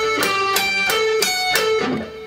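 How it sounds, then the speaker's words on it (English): Electric guitar plays a song's intro riff picked entirely with downstrokes, a handful of separate plucked notes at a slightly uneven pace, close and clear, ending on a fading ring. "if you try and do this all downstrokes, you get this"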